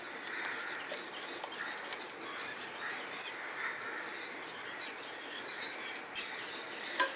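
A whisk scrapes and clinks briskly against the pot as hot, cooked mixed lentil dal is beaten. The strokes are quick, repetitive, faint and close, with bright metallic ticks and no voice.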